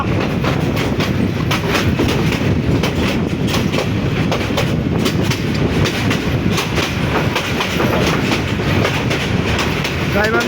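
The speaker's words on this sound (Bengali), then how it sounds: "এখন গাইবান্ধা রেলওয়ে স্টেশনে আসলাম" A train at Gaibandha railway station platform rumbles steadily and loudly, with continuous clickety-clack of wheels over rail joints throughout.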